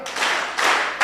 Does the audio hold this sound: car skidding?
no